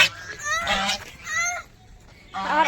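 Ducks at a pond give several loud, nasal honking calls in bursts, close by, with short gaps and a brief quiet stretch before a final honk.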